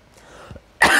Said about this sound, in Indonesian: Maaf ya, minta izin untuk batuk.